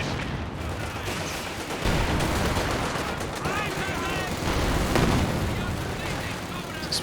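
Artillery barrage in the strategy game Company of Heroes 2, a thick constant roar of booms, explosions and machine-gun fire that swells partway through, loud and sustained with a voice talking beneath.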